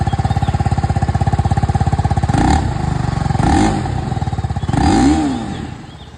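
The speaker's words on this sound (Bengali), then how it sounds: "এবার আমি আপনাদেরকে এখানে RTR 310টাকে শুনিয়ে দিই।" A TVS Apache RTR 310 motorcycle idles with a loud, even, pulsing exhaust thump close by, broken by three quick throttle blips that rise and fall before it settles back.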